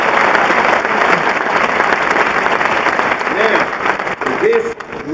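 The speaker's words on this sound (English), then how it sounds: "Let's have a round of applause for them." A graduation audience in a large hall breaks into sustained applause, dense, steady clapping from a big crowd with cheers and a voice over it.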